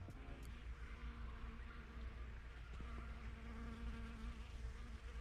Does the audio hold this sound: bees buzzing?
yes